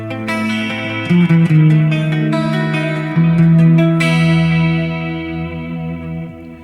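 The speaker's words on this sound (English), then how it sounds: "on the neck pickup it has a little bit of a darker sound." Clean electric guitar on the neck pickup, through an Axe-Fx III MkII, with a warm, darker tone plays a few chords and single notes, ringing out with a spacious reverb.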